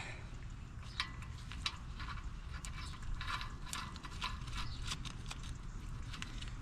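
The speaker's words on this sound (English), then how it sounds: "We'll just get this nut on just a little bit." A hand ratchet clicks in short, irregular bursts while tightening a nut on the front driver-side axle of a 2018 Kia Optima, close by and fairly quiet over a steady background hum, with no talk.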